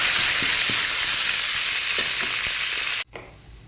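Curry leaves frying in a hot pan with chana dal, a dense bright sizzle with a few stirring knocks, cut off abruptly near the end.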